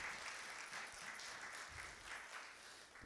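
Church congregation applauding during a sermon, a faint, steady spread of many hands clapping at a distance with no voices over it.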